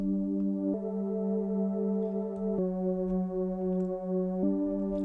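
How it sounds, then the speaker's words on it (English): A sustained analog-style synth pad made in Serum holding steady chords that change three times, each change marked by a small click, close and alone with no voices. "As you can hear, there's a slight click."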